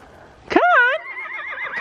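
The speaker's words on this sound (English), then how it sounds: "Come find the horse!" A horse neighs loudly and close by, a sharp whinny with a wavering, trailing tail, while a person speaks in the background.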